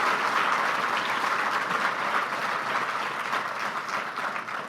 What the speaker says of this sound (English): please help me give a round of applause once again for His Excellency Paul Kagame, President of the Republic of Rwanda